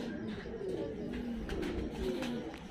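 A Saharanpuri pigeon coos softly and repeatedly, close by, over a dull background rumble.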